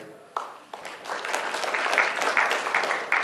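An audience at an Indonesian corporate governance award ceremony applauds the honored companies, a soft swell of clapping that starts sparse and builds into steady, moderately distant applause.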